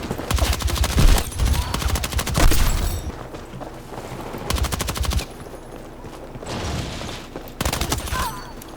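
Battlefield 6 firefight with an SMG: loud, rapid automatic bursts crack in several long volleys separated by brief lulls, backed by distant booms and rumble.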